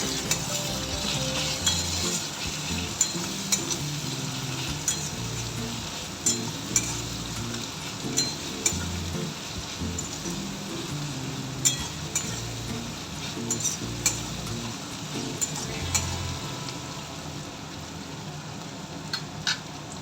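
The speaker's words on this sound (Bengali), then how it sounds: "পেঁয়াজ ভাজার প্রসেসটা যাতে একটু তাড়াতাড়ি হয় তার জন্য আমি তার মধ্যে একটু নুন ছড়িয়ে দিচ্ছি" Onions sizzle steadily as they fry with a sprinkle of salt for a Bengali chicken curry, with frequent scrapes and clinks of a spoon stirring the pan, loud and close with no talking.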